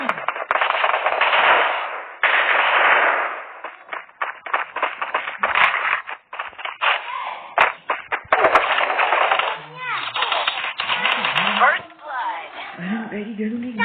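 Rapid bursts of automatic gunfire from the Free Fire video game, loud and dense, firing in long volleys with short gaps, while someone talks over the shooting.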